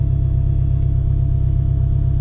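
Turbocharged K-swapped all-wheel-drive Honda Civic with a twin-disc clutch on a street pull, a loud, steady low engine drone with a pulsing rumble held close throughout, no talking.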